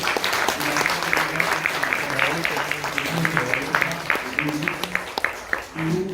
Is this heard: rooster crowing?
no